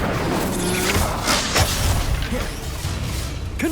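A fire spell, Incendio, cast during combat in the video game Hogwarts Legacy: a dense, roaring burst of flame with whooshing and crackling over a busy game soundscape, with a few thuds and impacts mixed in and no speech.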